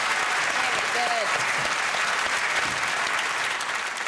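A studio audience at the comedy panel game show 8 Out of 10 Cats Does Countdown claps in a steady, loud wash of applause that fills the room, with a brief spoken word over it near the start.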